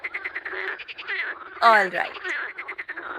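Several people imitate frog croaks together on a count, a burst of overlapping throaty ribbits and croaking voices up close, with brief speech around it.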